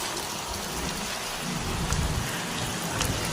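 Heavy rain pours steadily during a typhoon, a dense loud hiss of water on surfaces that continues without a break, with a low rumble underneath.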